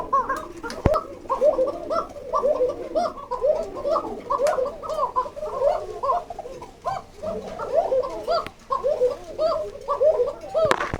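A male pigeon calls with continuous rolling, bubbling coos, close and fairly loud, the throaty phrases repeating steadily across the stretch with a few sharp clicks in between.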